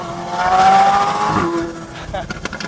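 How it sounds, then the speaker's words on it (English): A powerful supercar engine revs loudly and its exhaust roars, then fades slightly as a voice talks over it. "that fucking exhaust is insane."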